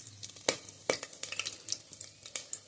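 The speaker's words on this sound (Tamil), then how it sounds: "இப்போ நான் எண்ணெய் வச்சுட்டேன். அதில் பட்டை, லவங்கம், ஏலக்காய் போட்டிருக்கேன்." Cinnamon, cloves and cardamom crackle and sizzle in hot oil in a pan, sharp pops and spits scattered irregularly over a soft frying hiss, close and fairly quiet.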